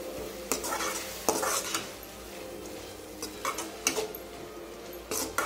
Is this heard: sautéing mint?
yes